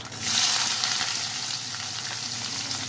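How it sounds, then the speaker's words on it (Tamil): Garlic and finely chopped large onion sautéing in a pan for a village-style salavai podi kuzhambu, a close, loud, steady sizzle that swells briefly at the start then settles into an even hiss. "இப்போது இது நல்லா வதக்கிக்கலாம்"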